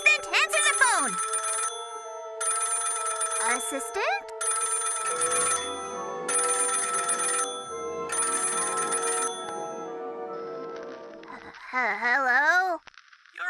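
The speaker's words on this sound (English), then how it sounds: "Assistant, answer the phone!" Cartoon telephone rings in a repeated bell-like pattern of four bursts, loud and close, overlapping a character's shout and followed by talk.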